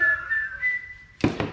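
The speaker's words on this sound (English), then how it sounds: "You can whistle while you work if you want to." Someone whistles a short, wavering tune close by, followed by a sudden thud or handling noise at the end.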